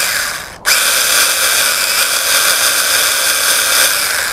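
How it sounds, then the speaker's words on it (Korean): A cordless mini chainsaw spins its chain while chain or engine oil is fed in, starting with a brief lull and then a loud, steady high-pitched whine that runs on evenly with no talk over it. "날을 회전시키면서 이렇게 오일을 주입해 줍니다"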